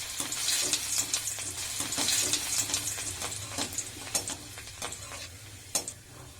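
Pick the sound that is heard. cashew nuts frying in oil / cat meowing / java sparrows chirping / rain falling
cashew nuts frying in oil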